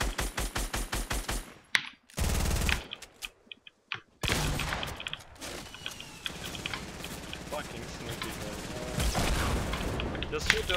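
Rapid gunfire in the video game Fortnite during duo play, with dense bursts of automatic shots, a brief pause and then a long sustained volley, loud and close.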